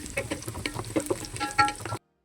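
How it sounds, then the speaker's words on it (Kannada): Fresh mint and coriander leaves frying in hot oil for Ambur chicken biryani give a close, steady sizzle with brief stirring scrapes, then stop abruptly. "ಪುದೀನ ಹಾಗೆ ಕೊತ್ತಂಬರಿ ಸೊಪ್ಪನ್ನ ಚೆನ್ನಾಗಿ ಫ್ರೈ ಮಾಡಬೇಕು."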